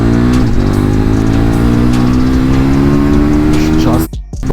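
KTM 1290 Super Duke R motorcycle pulling hard on a Paris motorway, a loud, steady engine roar rising in pitch through the gears before a sudden brief drop near the end.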